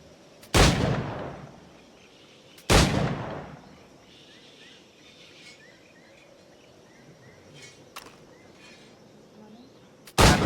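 Black-powder firearm gunshots ring out in Assassin's Creed IV: Black Flag, three sharp, loud cracks several seconds apart with decaying tails, set over a quiet outdoor bed of insect and bird sounds.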